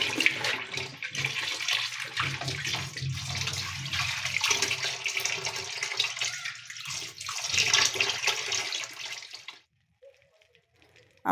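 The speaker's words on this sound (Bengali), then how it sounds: "আমার শাক ধোয়া শেষ।" Tap water runs steadily while leafy greens from a home garden are washed in a kitchen, a continuous splashing rush that stops abruptly near the end.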